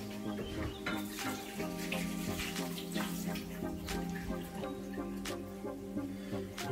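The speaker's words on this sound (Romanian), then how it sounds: "Să spăl mâinile." Running tap water while hands are washed during home bread baking with potato dough, a steady soft stream with splashing and faint clinks, fairly quiet and close.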